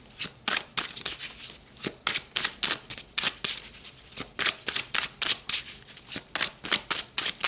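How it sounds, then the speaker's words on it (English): Tarot cards being shuffled by hand in a steady run of quick riffling bursts, close and fairly loud, continuing alone with no talk. "So let's pull another card."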